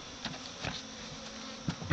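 A dense, steady buzzing of many honey bees from a swarm, heard close up and continuous, with a few louder passes and faint bumps, no voices.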